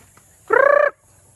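A farm bird calls once from close by, a single short harmonic gobbling burst lasting under half a second, clear against a quiet background.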